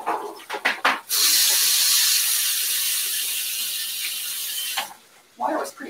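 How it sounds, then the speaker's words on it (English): Hot tap water runs steadily from a kitchen faucet to rinse a freshly cleaned item before cooking a chicken curry dinner, a loud continuous hiss lasting several seconds, with brief clatter and handling noises before and after. "I'm still going to give it a little rinse"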